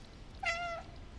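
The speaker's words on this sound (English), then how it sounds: "I just still love that meow button, I really do." A single clear cat meow from Stray, triggered by the meow button, short and tonal, over a quiet ambient backdrop.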